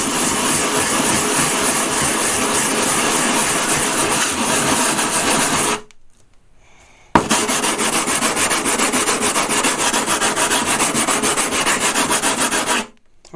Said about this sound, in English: I'm going to attempt to flatten this stone